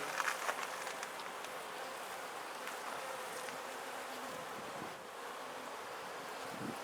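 Honey bees buzz steadily around an open top bar beehive during an inspection, a faint, continuous droning hum with occasional closer passes.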